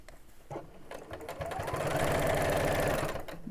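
Sewing machine running steadily as fabric is fed through to stitch a bag seam, a rapid even chatter that builds from a slow start into a fast continuous run, close and fairly loud.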